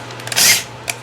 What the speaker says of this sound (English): I'm just showing you that I am using a cordless drill.